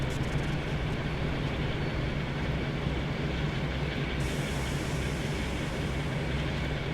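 A passenger train of five coaches rolls along steadily in the Train Sim World game, a constant loud rumble and clatter of wheels with no pauses and no talk.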